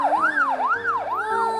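A loud, close siren wailing up and down in quick repeated sweeps, with a steady lower tone running underneath.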